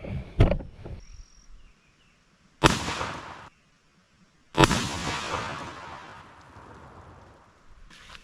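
Three separate blasts from a very long shotgun shredding targets set out at a distance, each a sharp loud crack trailing into a long decaying rumble, with quiet gaps between them.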